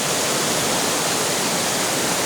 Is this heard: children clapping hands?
no